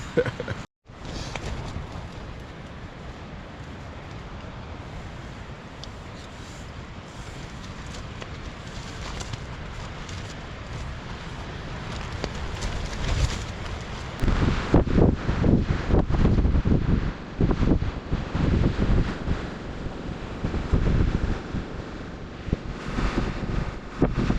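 Strong cold wind at a mountain lake on a backpacking trip, roaring steadily into the microphone with loud rumbling gusts that build and buffet harder in the second half, with no talk.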